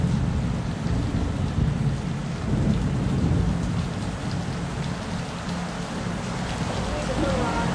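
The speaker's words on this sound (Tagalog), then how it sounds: "Umuulan, te." Heavy rain pours down during a thunderstorm, a dense, continuous roar with deep rumbles of thunder rolling underneath, loud and unbroken throughout.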